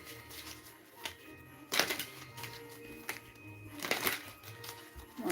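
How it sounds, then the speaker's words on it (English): Tarot cards being shuffled by hand, with crisp riffling bursts around two and four seconds amid quieter rustling and handling. "One more shuffle."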